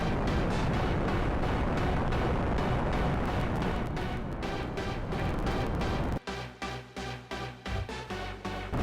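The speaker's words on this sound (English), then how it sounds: "I'm going to build a rocket to fly to my favorite planet of all, Jupiter!" Rocket launch in the Spaceflight Simulator video game: a loud, dense, continuous roaring rumble that abruptly gives way to a series of rhythmic pulsing bursts toward the end.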